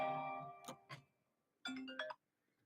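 A phone rings twice in a quiet room, two separate short electronic chime bursts with a pause between them, clear and fairly close, with no talking.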